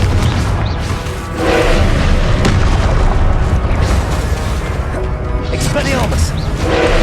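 Booming Confringo fire-spell blast in the video game Hogwarts Legacy, loud and continuous within a dense mix of rumbling game effects and voices.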